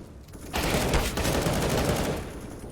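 Rapid automatic gunfire in Counter-Strike: Global Offensive, a loud sustained burst of shots during a pro match, with no talk over it.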